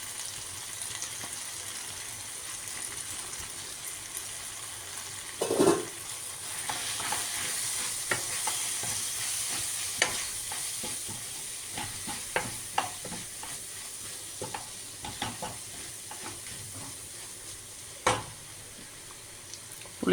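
Ground spice powder is stirred and fried in a pan for a bitter gourd gravy, a soft steady sizzle broken by repeated scraping and knocks of a spoon against the pan.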